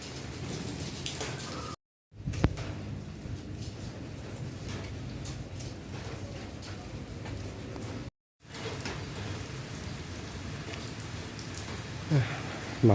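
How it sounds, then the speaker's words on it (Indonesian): Steady rain falling with a soft, constant hiss and scattered drops, briefly cut off twice, with faint street noise underneath, in Kelapa Dua, Indonesia. "Udah mulai gerimis lagi nih di Kelapa Dua."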